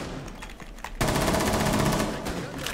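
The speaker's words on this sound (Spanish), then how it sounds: "He disparado más que nada porque no me acordaba cómo se disparaba el arma de bandida" Bandit's gun firing in Rainbow Six Siege, a loud sustained burst of rapid automatic fire that starts abruptly and fills the rest of the clip after a quieter moment.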